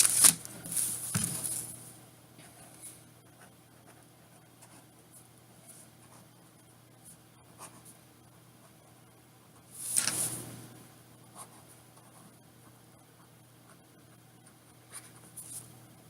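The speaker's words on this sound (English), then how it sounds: "Here, I'll write it again." Pen writing by hand on paper, a quiet steady scratching that runs through most of the stretch with two louder bursts near the start and middle, no talking.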